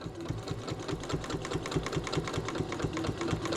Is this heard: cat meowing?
no